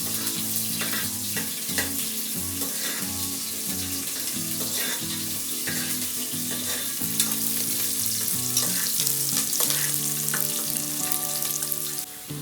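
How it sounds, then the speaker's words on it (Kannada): Ingredients for chicken biryani sizzle and fry steadily in a pan, a dense continuous crackle with occasional stirring scrapes, close and fairly loud throughout with no talking. "ಚೆನ್ನಾಗಿ ಫ್ರೈ ಮಾಡಿ. ಟೇಸ್ಟ್ ಅಂತೂ ತುಂಬಾ ಚೆನ್ನಾಗಿ ಬರುತ್ತೆ."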